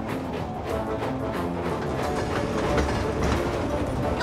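Cartoon steam engine train running on rails, a steady rhythmic clickety-clack of wheels with continuous rumbling chuffing, close and loud throughout.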